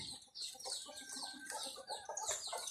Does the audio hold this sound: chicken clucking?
yes